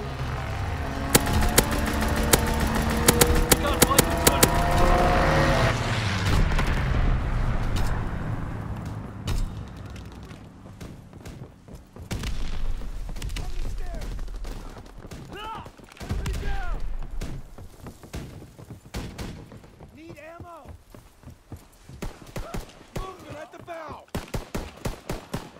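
Strafing run in the Call of Duty WWII video game, with dense bursts of gunfire and booming explosions up front, then scattered shots, thuds and distant firing as the barrage fades, with game voices in between.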